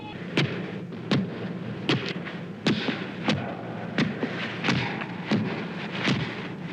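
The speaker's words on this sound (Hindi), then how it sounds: "ये किसके पदचाप की ध्वनि है" Heavy booming thuds strike at a slow, regular pace, like giant thundering footsteps, each impact loud and echoing over a low rumble.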